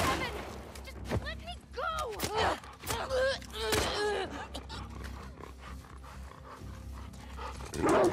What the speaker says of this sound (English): That's what I get for trying to melee a dog.